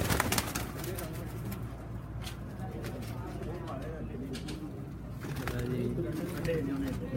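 Pigeons of a single breed coo softly in a loft, low repeated calls running steadily beneath nearby conversation.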